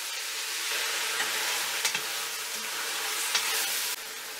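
Beef pieces frying in a pot with carrots and onions make a dense, steady hiss up close, with a few light knocks from stirring and no voices.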